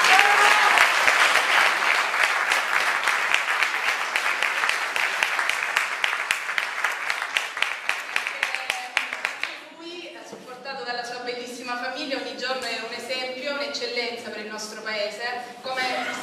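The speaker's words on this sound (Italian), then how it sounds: "il consigliere Gigi Rex, al quale chiedo di fare un applauso." Loud, dense applause fills a hall at a sports excellence awards ceremony in a museum room, holding strong for about ten seconds before fading out as music takes over.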